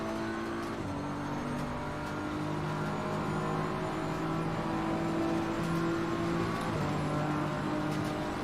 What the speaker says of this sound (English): Oh, the Ferrari is coming behind us.